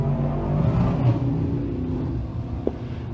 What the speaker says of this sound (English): it sounds like he's having a problem getting that car into gear